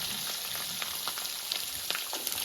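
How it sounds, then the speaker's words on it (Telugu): Coconut pieces fry in a pan for a gongura pickle, giving a steady, fairly soft sizzle with scattered small pops and crackles and no talking. "కొబ్బరి ముక్కలు బాగా వేగాలండి."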